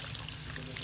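Water trickling and pouring as cooked vegetables (nalichi bhaji leaves with onion) are drained in a village kitchen, a soft steady dribble alone with no voices.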